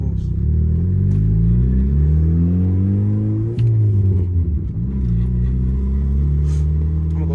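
Turbocharged Honda Accord with a K24Z3 engine pulls hard through the gears from inside the cabin, its loud, steady engine drone rising in pitch, dropping sharply at each shift around the midpoint, then climbing again.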